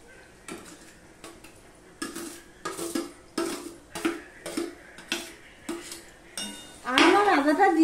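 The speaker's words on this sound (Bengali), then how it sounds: "আম আর আদাটা দিয়ে আমি সম্পূর্ণটা মিশিয়ে নিচ্ছি" Grated mango and ginger are stirred with garlic in a pan, a steady series of about a dozen rhythmic spatula scrapes and clinks close by, ending in a louder sizzling burst.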